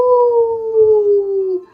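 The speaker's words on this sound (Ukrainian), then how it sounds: "Хто так виє на місяць? Вовк, вірно" A single sustained wolf howl from an electronic smart picture book, loud and close, one long gently falling tone that cuts off abruptly.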